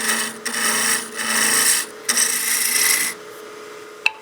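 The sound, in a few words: wood lathe rough shaping a bat house ornament body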